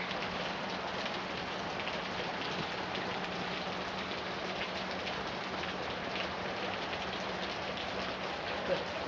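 Rain falls in Long Beach, a dense, even patter of drops on surfaces that holds at moderate volume without a break.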